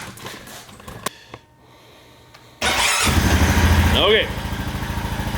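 A Honda Rubicon 520 ATV engine cranks and catches midway, then settles into a loud, steady close-up idle, with a brief spoken word early on and a rising whine near the end.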